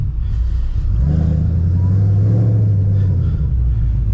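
An S197 Ford Mustang with a worn-out clutch rumbles and revs as it pushes through water, the engine swelling loud and close over a low rushing wash.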